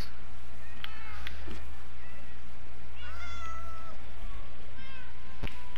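A kitten in a video game meows several times, short, high and close, spread across a steady low background hum.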